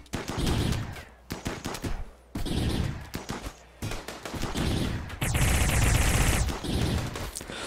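Colonists in the video game RimWorld fire guns at raiders, bursts of rapid shots coming in loud volleys separated by brief lulls, with heavier sustained fire toward the end.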